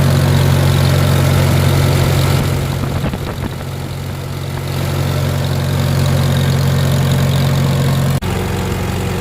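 A Farmall M tractor engine idles steadily after its first start of the year, a loud, close, low continuous rumble with a brief dip partway through and no talk.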